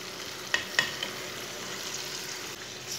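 A spoon scrapes and clinks a couple of times in a pan of boiled chickpeas frying in masala, over a steady low sizzle that continues throughout.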